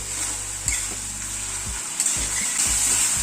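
Poppy seed paste fries in oil in a pan for a bhetki fish dish, giving a steady, close sizzle with a few soft scrapes and knocks from stirring.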